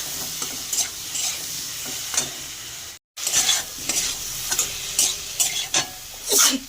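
A pea mixture with salt and turmeric sizzles in a pan as it is sautéed for a Bengali dhoka dish, with repeated scraping stirs over a steady fry and a brief break partway through.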